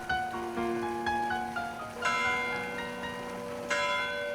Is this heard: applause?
no